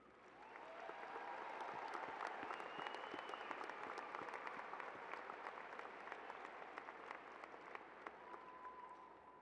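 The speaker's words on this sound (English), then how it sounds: "Please join me in applauding these leaders." Sustained applause from a crowd at a high school commencement ceremony for the graduating class of 2017, a dense even wash of clapping that swells in the first couple of seconds and holds steady throughout.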